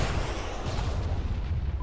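An anti-tank round explodes in the video game Arma 3 with a low, rumbling boom that fills the moment and fades into a dull, sustained roar, fairly quiet overall.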